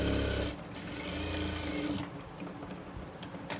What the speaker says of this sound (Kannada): ಇವಾಗ ಬ್ಯಾಕ್ ಸೈಡಿಂದ ಆಯಿತು ಸ್ಟಿಚ್ ಹಾಕಿದ್ದು